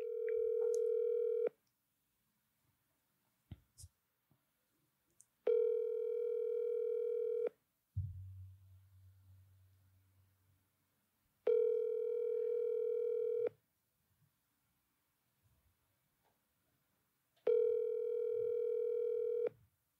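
A telephone dial tone sounds in steady two-second bursts separated by silences during a phone call, with a brief low thump partway through.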